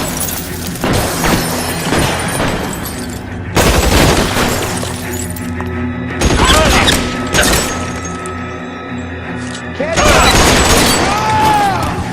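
Gunfire and impact blasts in the 1940s Los Angeles crime game L.A. Noire, with loud broadband bursts in several clusters, some sharp cracks and a ringing tail, under game speech.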